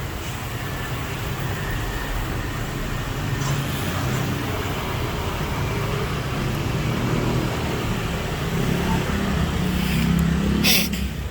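Many vehicles pass on a busy street in the Philippines below a third-floor vantage point, a steady hum of road traffic with engines rising and fading throughout.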